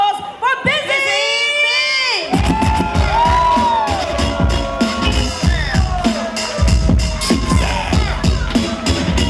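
Crowd at a hip-hop museum induction ceremony cheers and whoops loudly, with shouts and excited voices. A brief musical stab is heard first, then a dense, close roar of cheering with a few yells poking through.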